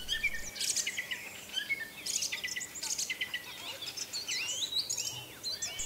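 Song thrush singing at night, a series of bright chirping phrases with short pauses between them, near and clear over a faint background.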